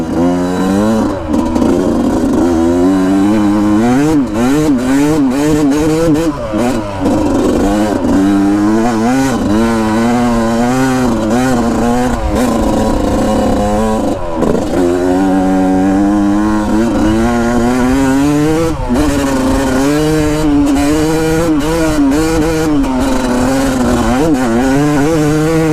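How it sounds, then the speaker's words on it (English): Kawasaki KX450X four-stroke and two-stroke dirt bikes revving hard and continuously, a loud buzzing engine note that rises and falls in pitch with each throttle blip throughout. "You gotta rev these things up to get them to go."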